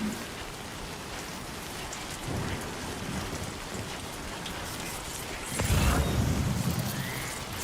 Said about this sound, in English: It's raining too hard for me to go that way, though.